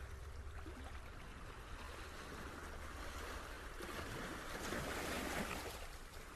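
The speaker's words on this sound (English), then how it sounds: "the waves with their strong undercurrents can pull you into open water" Ocean waves break and churn over a shallow coral reef on the Barbados coast, a steady, loud roar of surf with rising swells of crashing water, heard alone without voices.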